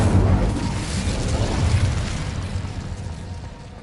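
A fire spell blast in the Hogwarts Legacy video game, a loud, roaring burst of rumbling flame and noise that fills the whole stretch and slowly tapers off, with no talking.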